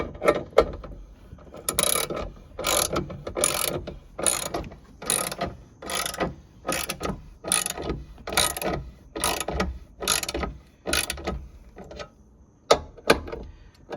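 A hand ratchet clicks in quick bursts on the 13 mm battery bolts of a 2010 Chevrolet Camaro, a dozen or so crisp rhythmic ratcheting runs, close and clear with short pauses between, and no talk.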